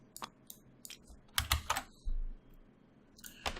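Cardboard game tokens from the Mage Knight board game are shuffled by hand in a series of quick, close clicks and soft clatters, faint and irregular, with a brief scraping slide partway through.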